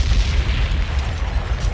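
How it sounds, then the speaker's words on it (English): Loud, dense booming explosion sound effects in a rap performance, a continuous rumbling roar heavy in the low end with no clear gaps or voices. "enough with the explosions"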